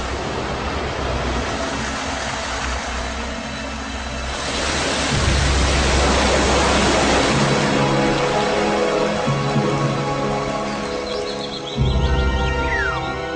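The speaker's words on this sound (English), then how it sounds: "This is the origin of the rain, which rushes down in countless waterfalls." Rain rushing down in countless waterfalls, a steady broadband roar of falling water that swells louder midway and holds, continuous and enveloping with no voices.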